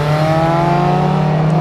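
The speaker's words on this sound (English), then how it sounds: "And the exhaust is stock in this car," A 1978 Ferrari 308 GTB on its stock exhaust revs with a loud, close, steady growl, the engine note rising slightly while holding a strong, even tone throughout.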